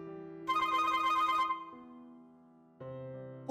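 Phone ringing in a horror video game, a melodic electronic ringtone with a bright burst of tones, then lower sustained notes that pause and resume, playing alone.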